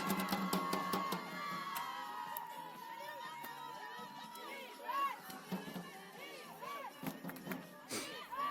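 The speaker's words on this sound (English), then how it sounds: "A chant of defense from the crowd" A crowd at a sports match chants in unison for defense as a drum beat starts, rhythmic shouted calls rising and falling against a hubbub of cheering voices at moderate distance.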